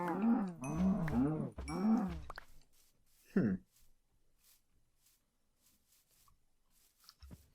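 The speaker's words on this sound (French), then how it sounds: "Il y a des vaches." Cattle low in the video game Rust, with several close, loud moos or groans in quick succession and then one more lowing call before a long quiet stretch.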